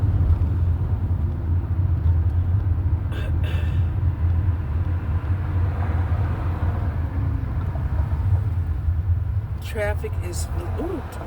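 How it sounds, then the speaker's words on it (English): Steady road traffic rumble heard from inside a car in heavy traffic, a continuous low engine and tyre drone with passing vehicles, over which people talk throughout. "Traffic is horrendous out here."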